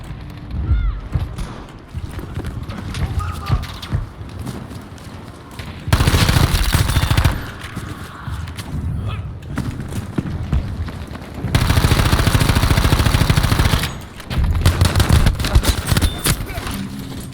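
Bursts of automatic gunfire crackle in Battlefield V, two sustained loud volleys and scattered shorter shots over wind and ambient game noise.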